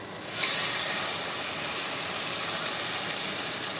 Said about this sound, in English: You see it searing on the side.